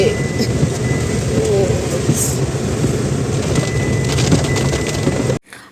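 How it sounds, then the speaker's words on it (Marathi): Heavy monsoon rain pours outdoors in hilly country near Bhandardara, a dense, loud, continuous roar with rumbling low end, close and steady until it cuts off abruptly at the end. "भरपूर पाऊस आहे भरपूर सगळे गदेरी व्हायला लागले नद्या नाले"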